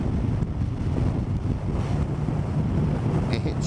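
Gusty wind buffets a cyclist's microphone while riding uphill out of a sheltered stretch, a steady loud roaring rumble throughout with no voice.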